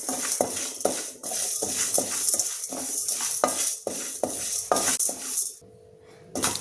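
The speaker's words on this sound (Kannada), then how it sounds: "ಹಾಗೆಯೇ ಡ್ರೈ ಫ್ರೈ ಮಾಡ್ತಾಯಿದ್ದೀನಿ, ಎಣ್ಣೆ ಹಾಕೊತಿಲ್ಲ." Drumstick leaves dry-fried in a pan without oil, a spatula scraping and stirring in a steady rhythm of close, repeated strokes over a crackling hiss, then a short pause before stirring resumes.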